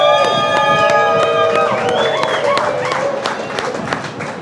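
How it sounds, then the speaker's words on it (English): An audience claps and cheers for the artist Shipwrecked at a community event, the applause loud and steady. Bright tonal whistles and voices ride over it, and the clapping slowly fades toward the end. "Give a round of applause."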